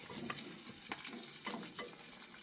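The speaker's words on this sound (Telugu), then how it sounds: "సో ఇక్కడ చూడండి, బెండకాయలు అన్నీ మంచిగా ఫ్రై అయిపోయాయి." Okra frying in a pan for a Telangana roti pachadi, with a steady soft sizzle and a few scraping stirs of a spatula, fairly quiet and close, no talking.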